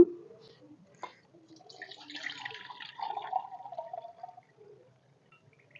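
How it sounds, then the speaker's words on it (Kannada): Water splashes and trickles in a few bursts as field beans (avarekalu) are rinsed by hand, fairly close, with quiet pauses between. "ನೀರ ಹಾಕಿ ತೊಳಿಬೇಕು ನೋಡ್ರಿ ಸ್ವಚ್ಛಾಗ"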